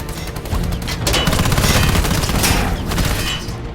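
Dense, loud gunfire from the film Avatar erupts in rapid overlapping bursts, a continuous barrage of shots filling the whole stretch.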